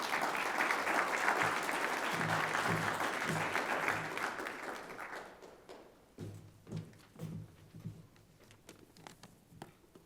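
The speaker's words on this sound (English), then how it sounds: "please join me in giving him a warm round of applause" A keynote audience bursts into dense, sustained applause that gradually thins into scattered individual claps and fades away, heard from within the hall.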